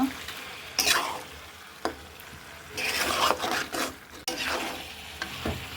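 Goat meat being stir-fried with a little sugar and salt, giving bursts of sizzling and rough scraping stirs that come and go in uneven strokes, close and fairly quiet.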